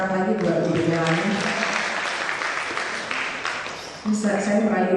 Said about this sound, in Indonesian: Tepuk tangan lagi buat Ibu Melani.